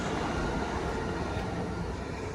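A 12-carriage train pulls into a station platform on a line out of Euston, a steady, loud rumble and rail roar filling the whole stretch without a break.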